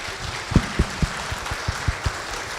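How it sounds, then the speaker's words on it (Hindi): Scattered, sparse hand claps from a small audience after a children's play about Jyotiba Phule in Dubai, a handful of separate distinct claps spread out over a quiet room rather than sustained applause. "प्लीज जोरदार तालियां उनके लिए"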